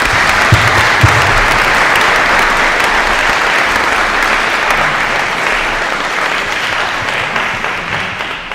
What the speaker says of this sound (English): a big round of applause for our two expert witnesses